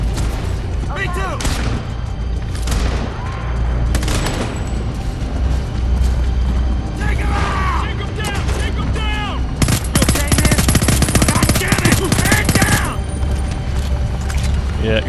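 Combat gunfire in Homefront: The Revolution, dense automatic bursts and booming shots running steadily throughout with a heavier barrage near the end, under shouted voices.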